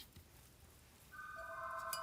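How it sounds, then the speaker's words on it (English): A telephone rings indoors in a quiet room, its electronic ring starting faintly about halfway through and holding steady as a bright, moderately close warble. "Oh, phone's ringing."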